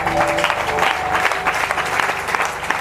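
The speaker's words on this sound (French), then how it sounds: "Viens, on acclame le Seigneur" A church congregation in Gabon claps and cheers together in praise, a dense, steady wave of applause filling the room with no pause.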